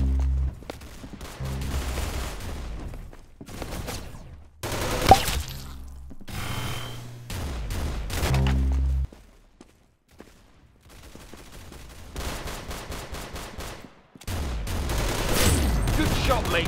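Video game gunfire in Arsenal comes as repeated rapid bursts of shots, loud and close. The volleys are broken by short silent gaps, and faint speech sounds under parts of it.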